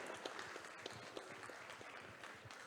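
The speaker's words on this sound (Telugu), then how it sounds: "ఆ చప్పట్లతో వారిని అభినందిద్దాం" An audience claps for classical dancers at a dance academy's anniversary stage event; the applause is faint and distant, a loose scatter of hand claps sustained throughout.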